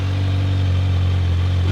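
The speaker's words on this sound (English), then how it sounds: "Let's try it again and we'll rev it up a little bit." A Kawasaki Z900 motorcycle engine holds a steady, loud, close rev that rises slightly at the end, with no talking over it.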